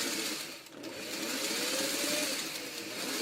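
A sewing machine hums in a steady, fast whir as it back-stitches and runs forward on a fabric string basket, close and continuous with a slight dip in the middle.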